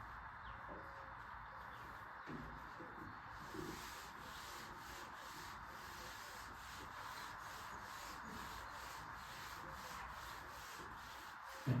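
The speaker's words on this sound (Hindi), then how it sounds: "मैं रब कर देता हूं।" A board being wiped clean of writing during a Class 10 science lesson, a steady, continuous rubbing scrape lasting the whole stretch at an even level, with no talk over it.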